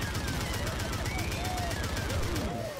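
Rapid automatic gunfire rattles steadily through GTA Online, a continuous burst of sharp shots layered with whistling and whining tones.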